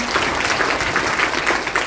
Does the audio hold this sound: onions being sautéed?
no